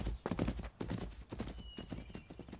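Horse hooves clip-clopping in the anime Vinland Saga, a steady run of close, fairly loud hoofbeats with a brief whinny-like tone partway through.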